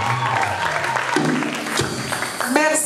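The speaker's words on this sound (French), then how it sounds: "Est-ce qu'on peut acclamer pour le coach Eti Mon Désir?" A church crowd cheers and applauds for the coach at an Ascension service, a loud, dense wash of clapping and shouts with some voices and music mixed in throughout.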